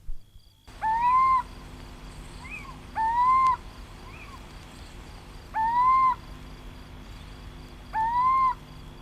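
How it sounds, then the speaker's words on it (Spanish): A little owl calls at night, its rising mewing note repeated four times at steady intervals of roughly two to three seconds, clear and fairly close against a quiet nocturnal background. "el maullido del pequeño mochuelo, pájaro nocturno"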